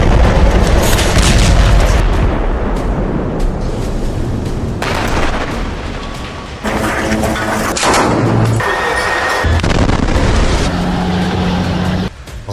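Heavy booms and blasts from a bombardment in Gaza roll on almost without pause, loud and dense, with sharp tonal flashes and rumbling layered through them and no clear talk.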